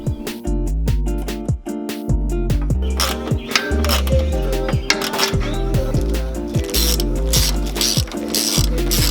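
Rapid mechanical clicking of a ratchet tightening headlight bolts on a Toyota Tacoma, close and loud, in repeated quick bursts with brief pauses between strokes, no speech.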